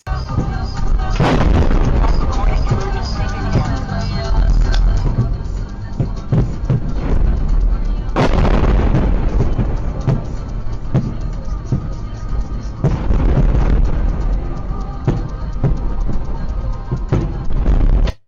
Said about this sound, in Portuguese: Dá para ver várias explosões, né?